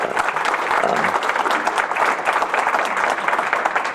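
A crowd at an LGBTQ Veterans Day 2019 event claps steadily in a dense, sustained round of applause filling the room.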